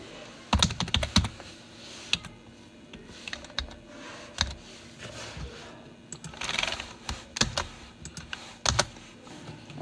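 Computer keyboard typing while working on a MySQL query, with irregular clusters of close, crisp key clicks and a few louder, sharper presses like an enter key, over a quiet room hum.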